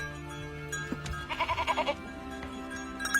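Sheep bleating in an animated cartoon: a single wavering, quavering bleat lasting about half a second, set against background music and sound effects.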